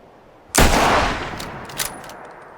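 A single loud gunshot in a video game, fired with an Xbox controller trigger, followed by a decaying boom and a few faint clicks and small impacts.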